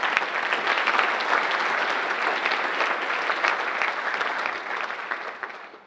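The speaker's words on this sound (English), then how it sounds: "Let's give them a round of applause for all they do for us every day." An audience at a Veterans Day program applauds the teachers. The sustained applause from many hands stays steady and full for several seconds, then fades away at the end with no talking.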